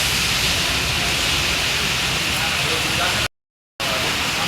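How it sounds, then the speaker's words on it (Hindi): Heavy rain pours outside during a storm at a fair as a loud, dense broadband wash. It cuts out briefly for a moment of silence, then resumes just as strong. "बाहर हो रही है तूफान बारिश"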